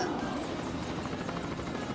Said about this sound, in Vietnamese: Một siêu máy bay trực thăng, thật là tuyệt.